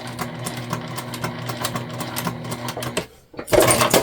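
A sewing machine runs in a steady rapid stitching whir while a crossbody bag is sewn. It carries on for about three seconds, breaks into a brief pause, then starts again with a louder burst.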